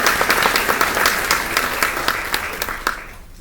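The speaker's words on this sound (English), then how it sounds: "Can we give them all a round of applause?" Audience applause at a nursing pinning ceremony, a crowd clapping steadily with many overlapping claps that slowly thin out and fade toward the end.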